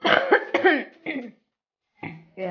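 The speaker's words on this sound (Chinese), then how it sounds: "有点咳嗽" A woman coughs several times in quick bursts, close and fairly loud, with short pauses between coughs and no other sound in the scene, at home in front of a mirror while putting on her makeup.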